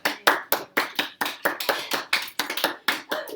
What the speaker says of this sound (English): Hey, give yourself a round of applause.